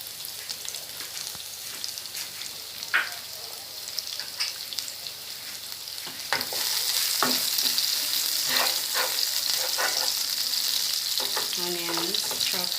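Scotch bonnet and green pepper fry in a pan for Jamaican mackerel rundown, a steady sizzle that grows louder partway through, with occasional stirring clicks and clinks over the crackle.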